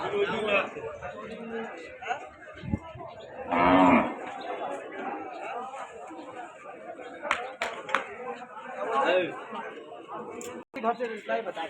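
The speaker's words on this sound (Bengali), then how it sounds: "প্রচুর গরু উঠে, প্রচুর সব বয়েল, বয়েল ষাঁড় বকনা প্রচুর" Cattle low at a busy rural cattle market crowded with bulls, bullocks and heifers. Intermittent moos rise over steady crowd chatter and nearby voices talking throughout.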